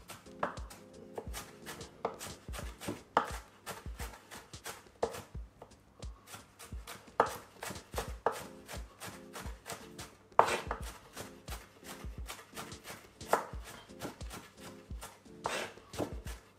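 A knife finely chopping red onion on a board, a quick irregular run of crisp, close taps and cuts with short pauses, fairly quiet and with no talking.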